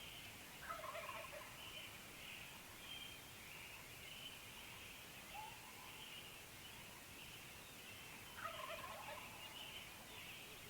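Faint, distant wild turkey gobbles roll out a few times over steady outdoor background hiss in Oregon turkey country.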